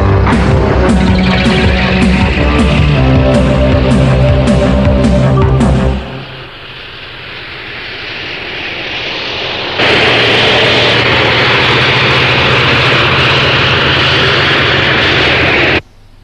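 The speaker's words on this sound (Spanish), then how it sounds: "¡Arranca el motor!" A vehicle engine in the anime film Grey cranks with a rapid series of rhythmic pulses, then fades and swells into a loud, sustained jet-like roar that cuts off at the end.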